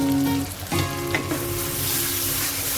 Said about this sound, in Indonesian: Kemudian kita masukkan bumbu halusnya atau bumbu giling, kita tumis juga.